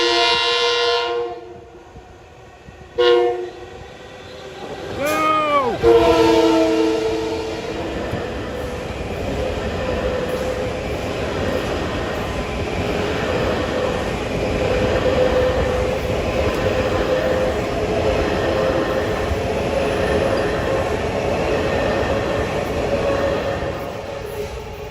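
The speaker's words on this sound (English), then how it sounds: "And here comes 656 from Hunters Point Avenue to Port Jefferson at Eastgate Drive." A Long Island Rail Road M9 train on the Port Jefferson Branch passes the Eastgate Drive crossing near Cold Spring Harbor, sounding its horn in short blasts before a sustained rumble of wheels and motors rolls by close up.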